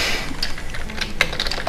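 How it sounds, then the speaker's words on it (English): Keystrokes on a Commodore 64 keyboard used as game controls, a quick run of close, fairly loud clicks and taps with a sharper cluster near the middle. "right now I'm using the keyboard"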